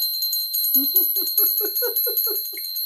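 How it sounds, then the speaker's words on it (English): A pair of small hand bells rings together in rapid, continuous bright jingling with high, sustained tones close by, while low murmuring voices run underneath. "So these are the little bells I use."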